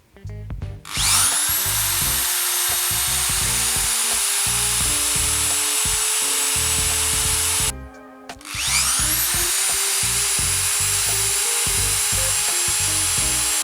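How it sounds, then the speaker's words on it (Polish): A power drill running off a portable power station whirs up and runs steadily at high speed, briefly stops, then spins up again and keeps running loudly. "Możecie podłączyć wiertarkę"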